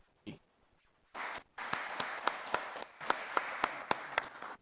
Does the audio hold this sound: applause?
yes